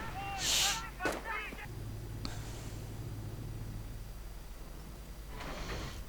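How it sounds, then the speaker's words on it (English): A grenade blast in a Company of Heroes battle: a sharp burst near the start, a second crack just after, then low rumbling battle ambience and another noisy swell near the end, with a voice partly over it. "the grenade goes off, forcing away the Volksgunners right there"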